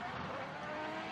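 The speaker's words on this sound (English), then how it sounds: "you and I can actually hear this car screaming from where we are way down in the pits" A drift car at an international drift challenge during practice and qualifying roars at high revs with a sustained, strained engine scream and tire squeal, steady and loud throughout.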